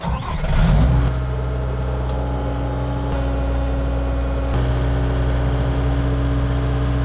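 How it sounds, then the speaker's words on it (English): Bobcat skid-steer loader and backhoe working to shift a beam at a home building site, a loud diesel engine roaring up at the start then settling into a steady heavy rumble with a mechanical whine over it, continuous throughout. "So I'm gonna move with the Bobcat and then we're gonna get it with the backhoe."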